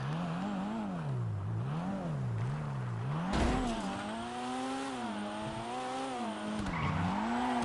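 A drift car in GTA Online driving and revving: the engine note rises and falls in repeated rev sweeps, then climbs higher under harder acceleration with brief tire-scrub bursts, close and steady, with no talk.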